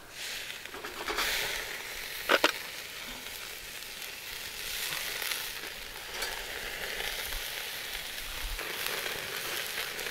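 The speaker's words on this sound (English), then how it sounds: "let's put a little sear action on these steaks" T-bone steaks sear on a Barrel House Cooker with a steady, loud sizzle that runs throughout, broken near the middle by a brief sharp spatter or clank.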